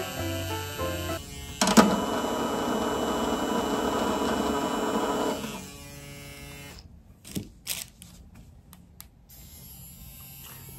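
A Lola Air Pro EZ permanent-makeup tattoo machine runs with a steady electric buzzing hum for several seconds and then switches off, followed by a few soft handling clicks and quiet background.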